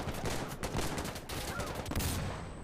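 Dense, continuous gunfire in the video game Insurgency: Sandstorm, a constant roar of rapid shots with no clear gaps, fairly loud throughout.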